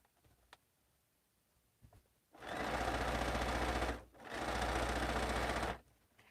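A sewing machine chain-pieces quilt blocks in two fast, continuous bursts of rapid stitching, close and loud, separated by a short pause, with quiet handling noises before.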